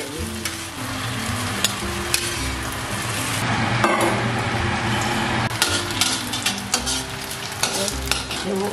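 Ingredients stir-fried in a pan for Hakka lei cha, a steady loud sizzle with rhythmic scraping and clacks of the spatula against the pan, close and continuous.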